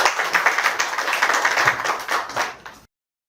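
Steady applause from an audience at an IR demo day, sustained for close to three seconds before cutting off abruptly.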